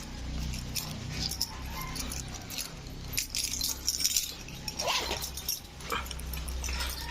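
Metal house keys jangle and clink in a hand close by, with brief bright bursts over a steady low hum, while a small dog whimpers and yips faintly in the background.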